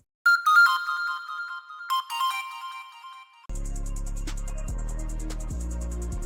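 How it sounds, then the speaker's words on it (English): A synth pan flute melody in a hip-hop beat, pitch-shifted up an octave, plays as a high, thin tonal line of short notes, then a heavy bass-laden beat kicks in loudly underneath with a steady, dense pulse. "All I did, I pitch shifted up an octave"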